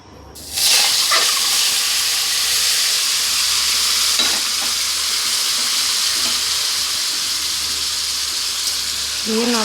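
Egg masala hits hot oil in a wok (kadai) and sizzles loudly and steadily, with occasional scraping and clinks from stirring throughout, no voices over it.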